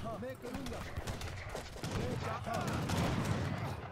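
Great bombards firing in the Age of Empires III video game during a battle: repeated heavy cannon booms and crackling gunfire blend into a dense, busy volley, with voices heard faintly in the mix.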